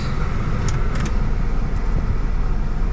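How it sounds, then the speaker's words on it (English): A carbureted Mitsubishi Minica engine idles steadily with a low, even rumble close by, accompanied by a few faint high clicks. "Car's idling fine. And remember, it's carbureted, but it's still nice and quiet."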